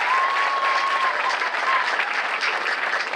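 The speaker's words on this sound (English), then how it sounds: "Yes, clap, those are all great achievements." Steady, dense applause from a high school graduation audience fills the whole stretch, loud and continuous without pause.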